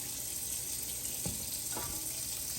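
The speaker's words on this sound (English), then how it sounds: "in your frying pan, add some water" Steady sizzling and hissing from a hot pan, with a brief splash or clatter as water goes in, all at a constant close level.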